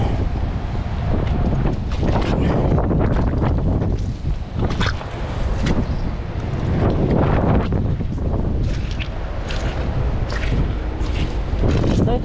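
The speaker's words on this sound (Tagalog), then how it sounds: "Masyadong malakas yung hangin dito." Strong wind buffets the microphone on a boat, producing constant loud roaring and gusting, with voices faintly underneath.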